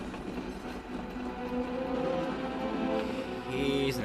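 A running train gives a steady rumbling roar with rhythmic clatter from the wheels. It stays continuous and fairly loud with no talking.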